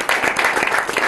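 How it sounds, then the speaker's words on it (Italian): A short burst of applause for Stefano, a dense patter of many hands clapping close and steady for about a second. "Quindi un saluto particolare, un applauso a Stefano."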